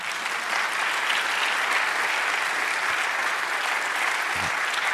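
Congregation applauding steadily during a church service, a dense, even wash of many clapping hands held for several seconds.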